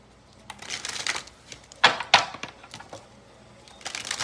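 Kipper oracle cards being shuffled by hand, a run of soft riffling and sharp slapping bursts, close and fairly loud with no talking.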